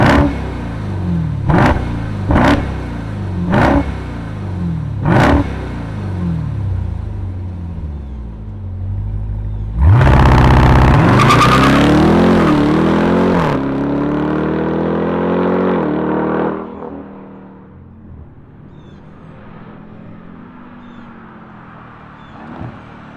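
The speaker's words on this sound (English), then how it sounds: "let's fire up this V8 and hear its supercharged whine" A supercharged V8 in a 2024 Dodge Durango Hellcat Black Edition fires up with a few sharp blips, settles into a rumbling idle, then revs hard with a rising whine before easing back to idle, close and loud with no talking.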